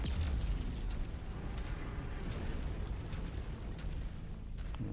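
Muffled booms and rumbling explosions in the mech combat game MechWarrior 5 as a giant mech kicks small vehicles, with a heavy thud at the start and a dense, roaring din throughout.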